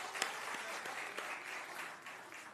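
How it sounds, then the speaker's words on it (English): Audience applause fills a county commissioners meeting, steady broadband clapping from a room of people lasting a few seconds at a moderate, even level with no talk over it. "Let's give her a big round of applause."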